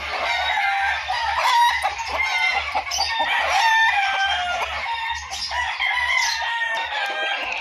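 A gamecock of the Inyo DC bloodline crows loudly and repeatedly up close, mixed with clucking from other fowl and a steady low hum running underneath.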